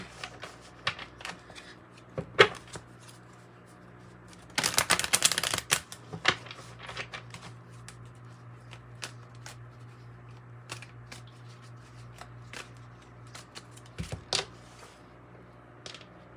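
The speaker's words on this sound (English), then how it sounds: "I know I shuffle these a lot," A deck of tarot cards is riffled in a quick, crisp burst of shuffling, close up, with scattered taps and card clicks before and after in a quiet room.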